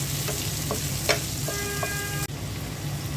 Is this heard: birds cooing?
no